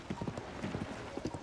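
Horse hooves in Zelda: Tears of the Kingdom clop in a quick, uneven galloping rhythm, moderately quiet and close, with no talk over them.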